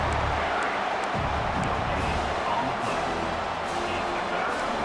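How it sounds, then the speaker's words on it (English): A stadium crowd in the EA College Football 26 video game roars steadily as a dense, continuous wash of cheering, loud and sustained under intermittent commentary. "Listen to this crowd just shaking the girders of this place, trying to help their defense"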